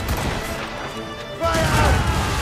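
Ship cannons firing a broadside in Assassin's Creed Rogue: deep, loud booms and crashing blasts under shouted voices, with a heavier wave of cannon fire rolling in partway through.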